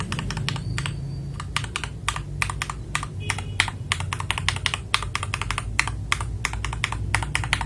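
Rapid, steady typing on a mechanical keyboard fitted with Gateron Cap switches in an FL Esports MK870 kit, with loud, crisp clacks alone and close up, no voice over them.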